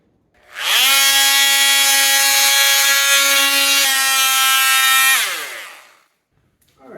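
A power saw cuts through a wooden baseboard along a kitchen wall, one steady loud whine lasting about four seconds that rises, holds and winds down, with no talk.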